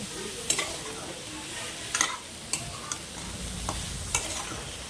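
Frying vegetables and stems for a data curry are stirred in a pan, giving a soft sizzle under several distinct scraping strokes at an irregular pace, close by, with no talking.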